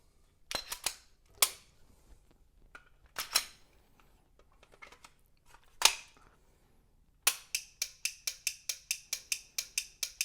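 Pistol dry fired with a laser training cartridge and dry fire magazine, sharp metallic clicks: a few separated snaps of slide and trigger handling, then a rapid even series of about ten clicks near the end, close and crisp.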